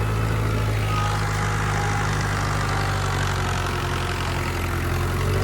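A tractor engine runs steadily at idle, a continuous low mechanical drone with a faint vibrating hum throughout.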